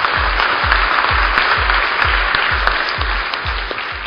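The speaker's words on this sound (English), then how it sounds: "Can we have another round of applause for Dr. Patnaik, please?" Steady applause from a crowd, dense continuous clapping with no pauses, fairly loud throughout.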